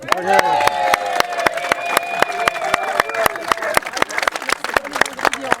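An audience at a cooking challenge claps in a fast, regular rhythm. The sharp, evenly spaced claps run for several seconds over a background of voices and a sustained tone.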